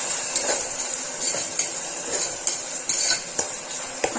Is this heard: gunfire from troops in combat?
no